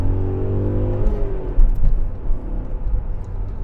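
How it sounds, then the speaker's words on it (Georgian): A BMW M5 E39 with its factory exhaust accelerates, its engine note a low, deep rising drone that shifts and fades into a broad, loud rumble of road and wind noise, with no talking. "საკმაოდ დაბალი ჟღერადობა აქვს ქარხნულ გამშვებს 39 M5-ზე"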